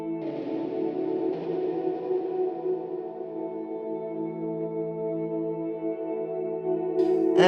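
A sustained, shimmering guitar drone processed through a Chase Bliss Audio Mood MK II pedal with reverb engaged, steady tones washing smoothly and a brief swell at the end, no talk.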